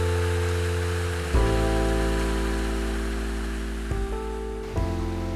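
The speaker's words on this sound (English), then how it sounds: "at my favorite little waterfall." Water spills over a small creek waterfall in a steady, rushing wash, moderately close and unbroken, with a few brief surges in the flow.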